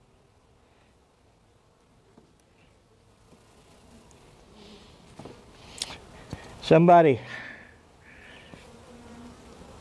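Honey bees buzz faintly around a hive during an inspection, swelling into a louder, closer buzz near the end, with a brief spoken word.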